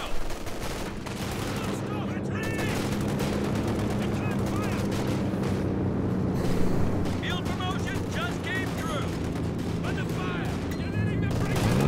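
An M36 Jackson tank destroyer fires on a StuG in the strategy game Company of Heroes 2, the gun blasts buried among dense rolling battle noise and steady rumble, while a commentator talks over it continuously.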